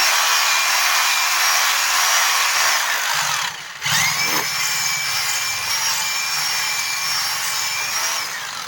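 A power drill whines steadily, widening a hole to fit a fastener during a DTH dish signal setup. The drilling continues, dips briefly midway, then runs on, loud and close.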